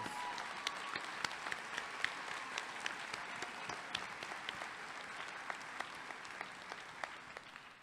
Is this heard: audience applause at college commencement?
yes